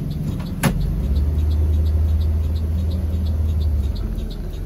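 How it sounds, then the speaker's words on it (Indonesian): A Wuling car reverses along a narrow winding road, its engine a steady low rumble close by, with a sharp brief click early on and a faint rhythmic ticking running through. "Jadi ini mobil wuling ini harus mundur ini."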